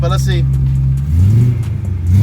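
A BMW E92 M3 with a Magnaflow exhaust, in limp mode from a throttle actuator fault and unable to pass 3,000 rpm, idles with a low steady drone and then rises into a short rev, while someone talks over the start.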